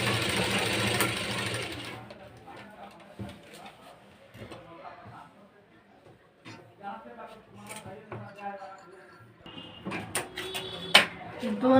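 A domestic sewing machine stitches the lining of a blouse with a short whirring run at the start, followed by quieter handling sounds and rustling cloth while someone talks.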